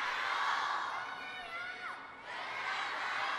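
A large arena crowd roars at a women's singles table tennis match at China Smash 2024, a sustained, dense swell of cheering that dips briefly midway before building again.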